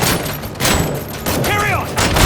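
Gunfire crackles in Robocop: Rogue City, loud, repeated shots layered under shouted voices and other game sounds.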